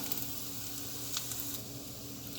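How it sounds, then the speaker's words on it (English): Garlic sizzling in a pan of oil while cooking penne alla vodka, a soft, even, close frying hiss with faint crackles and no talking. "second one in the pan, garlic. Let that cook through for a couple of minutes."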